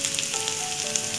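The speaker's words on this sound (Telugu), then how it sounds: "చూడండి ఈ విధంగా మనం ఫ్రై చేసుకుంటున్నప్పుడే ఇందులో మన జీడిపప్పులు, అలాగే మన క్యారెట్ పీసెస్" Cashews and carrot pieces fry in hot oil for vegetable vermicelli upma, giving a steady, close hiss of sizzling with no pauses or talk.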